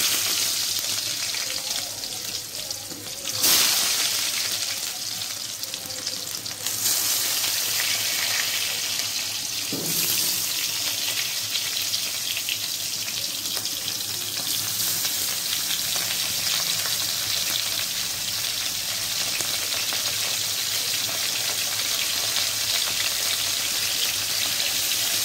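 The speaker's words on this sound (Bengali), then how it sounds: "এবার আমি পুর ভরা পটলটাকে ভেজে নেব।" Pointed gourds stuffed with coconut and shrimp fry in hot oil with a steady loud sizzle throughout, punctuated by a few sharp bursts as pieces are added or turned; no speech.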